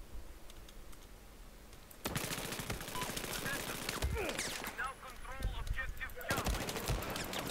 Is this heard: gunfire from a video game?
yes